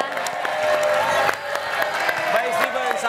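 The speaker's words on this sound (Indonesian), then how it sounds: "Boleh kita berikan tepuk tangan buat Steven." A studio audience on the Take Me Out Indonesia dating show claps and cheers for contestant Steven, a dense, steady wash of applause with whoops and a voice partly audible over it.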